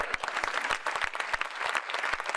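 Moderate, fairly sparse applause from a small seated audience at a testimonial session, individual claps distinct and rhythmic, somewhat distant.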